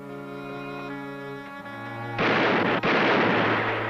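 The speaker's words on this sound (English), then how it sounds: "having a shooting match right outside on the street" Gunfire from a shooting match in a street erupts after a sustained musical tone, a loud dense burst of shots and booming blasts that fills the second half.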